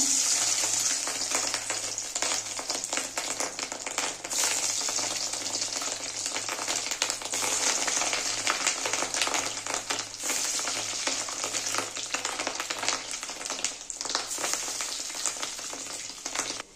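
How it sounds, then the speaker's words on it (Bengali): Fish roe fritters fry in hot oil with a dense, even crackle and sizzle that carries on steadily from start to finish, close and fairly loud, with no voices. "তেলটা গরম হয়ে গেছে, এবার আমি বড়াগুলো ভেজে নেব।"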